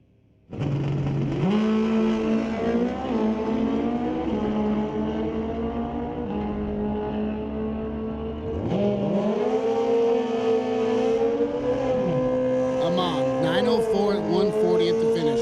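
Drag racing motorcycles, a 2005 Yamaha with a stretched-out swing arm and a Kawasaki KZ 1500, drone loudly at the line, engines holding a rough steady tone and then rising together in a strong rev partway through.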